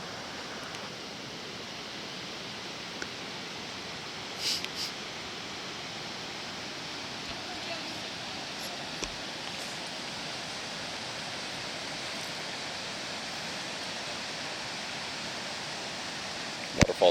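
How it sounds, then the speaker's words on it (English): A waterfall in Yoho National Park, hidden just behind trees along a backcountry trail, gives a steady, even broadband rush throughout, with a few faint knocks and handling sounds over it. "Waterfall's just over behind these trees."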